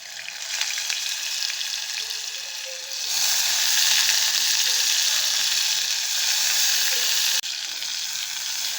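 Washed rice and moong dal fry in hot oil for sweet pongal, giving a close, steady hiss that swells louder midway and then eases, with faint stirring and no talk.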